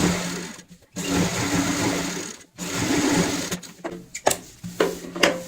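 Domestic sewing machine stitching the edge of a pillow cover: rapid mechanical whirring bursts, stopping and restarting several times, close and fairly loud, with small clicks between runs.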